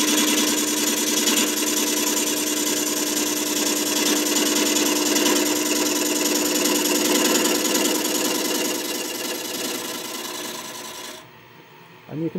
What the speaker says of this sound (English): we're getting much longer shavings coming off now that it's almost round